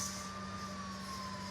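An ambulance siren in the Bus Simulator Indonesia driving game holds a steady, faint electronic wail over a low engine drone for a second and a half.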